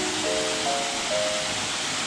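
Water pours continuously at a temple waterfall as a dense, even rushing roar, with a few faint high tones drifting over it.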